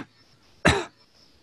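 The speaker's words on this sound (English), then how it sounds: "And if I cough, you might even be able to see this on screen." A single sharp cough sounds close and muffled inside a negative-pressure air helmet, standing alone against a faint steady fan hiss.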